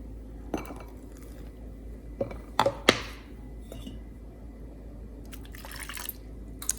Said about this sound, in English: Just going to rinse it.